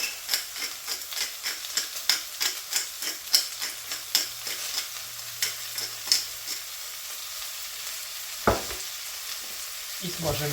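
Zucchini sizzling in a pan with steady frying hiss, punctuated by repeated clicking stirs of a utensil, close by, with no talk.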